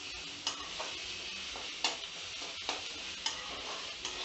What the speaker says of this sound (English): You have to continuously go on stirring it, otherwise it will stick at the bottom.